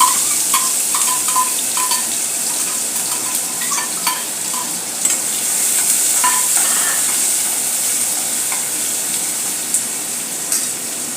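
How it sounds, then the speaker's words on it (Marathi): Chopped onion frying steadily in hot oil after mustard seeds have crackled, with a continuous close sizzle and occasional light stirring taps from a spoon against the pan. "मोहरी चांगली कडकली आहे आता यामध्ये एक मोठा कांदा बारीक चॉप करून घेतलेला आहे तो आणून घेऊया"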